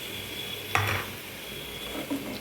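Grated raw mango tipped into a hot pan for mango rice, a brief rustling drop followed by soft stirring and a low sizzle, close and without speech.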